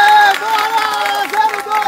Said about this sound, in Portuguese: Palmas pra Bernardo.